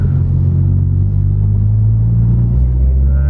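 Tuned VW Golf GTI, boosted past 500 bhp, pulling hard in third gear under acceleration: a loud, steady engine roar with deep low rumble and rising harmonics, continuous throughout with no talking.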